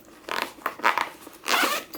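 The zipper on a cheap Daiso camping peg bag stuffed full of tent pegs is pulled shut in three short, raspy strokes, close and distinct, with no talking.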